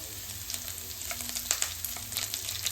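Chana dal, cashews, ginger and curry leaves crackle and sizzle in hot oil for semiya upma, a steady close frying hiss with scattered sharp pops and light stirring, no voices.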